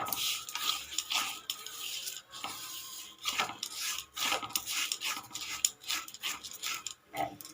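Broken wheat (daliya) dry-roasting in a pan, a rhythmic rasping scrape of a spatula stirring the dry grains, close and continuous with brief pauses.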